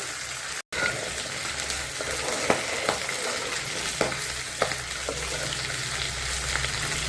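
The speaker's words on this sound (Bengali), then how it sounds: "মাছের মাথাটা ভাজা হয়ে গেছে, এখন ডালটা এদিকে জাল হচ্ছে, ধীরে ধীরে জাল হচ্ছে।" Continuous frying sizzle of a fish head and mung lentils, with occasional clinks and scrapes of stirring, steady and close, no talking.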